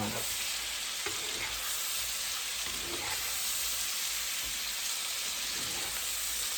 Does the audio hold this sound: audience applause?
no